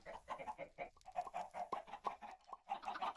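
A chicken in modded Minecraft clucks repeatedly in short, close, moderately quiet bursts with small pauses, alone without talk.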